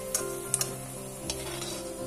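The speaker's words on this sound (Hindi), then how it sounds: "मैंने इसमें लिया है 1 चम्मच देसी घी और काजू और बादाम ऐड कर दिए हैं उसमें" Cashews and almonds fry in a spoonful of desi ghee in a pan, a steady close sizzle with a few sharp clicks of stirring against the metal.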